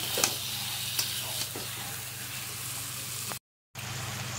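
Pieces of mutton being stirred and browned in ghee in a pan, a steady frying sizzle with a few soft scraping knocks of the spoon, close and moderately loud; the sound cuts out briefly near the end.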